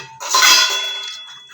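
Metal idli plates being handled in a kitchen as they are greased with oil or ghee for Coorg taliya putt, giving a single bright ringing clang that decays for about a second.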